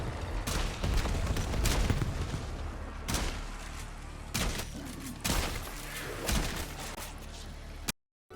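Cluster grenades go off in Black Ops 7 Zombies as a string of sharp, booming blasts, about six or seven in quick irregular succession over continuous game noise, ending in an abrupt cut to silence.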